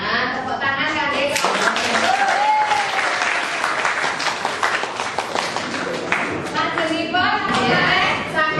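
Applause in a classroom during a Javanese-script lesson, clapping mixed with voices and children's chatter, a lively, fairly loud burst that continues alongside the talking.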